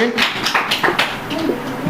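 A small group claps in a classroom, a brief scattered burst of hand claps of uneven rhythm, near and moderately loud, mixed with voices.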